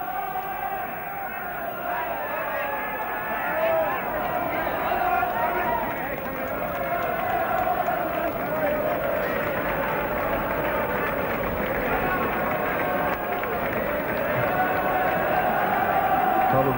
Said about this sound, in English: Probably the biggest crowd ever gathered at Cheltenham, giving this horse the most tremendous acclaim.